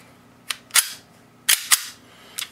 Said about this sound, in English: Let's go dry fire.